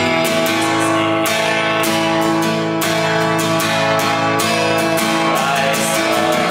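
An acoustic guitar plays a steady, loud strumming pattern of full chords with regular downstroke attacks, bright and close, continuing without any voice over it.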